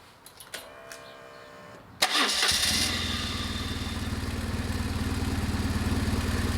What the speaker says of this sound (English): So now we just start the engine again